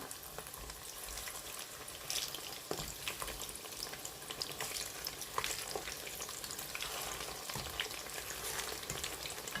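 A plantain burger fries in hot oil, a dense, steady crackling sizzle with occasional pops and a faint clatter, and no voices.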